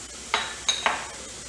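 Cumin seeds hit browning onions in a hot pan on high flame for dal tadka, three quick close clinks and scrapes of a spoon against the pan over a faint background, no talk.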